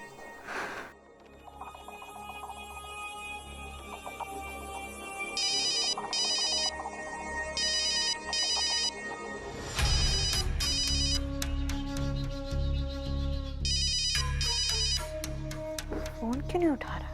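A phone rings again and again on an unanswered call in a domestic TV drama scene, with repeated bursts of ringing, background music and some voices.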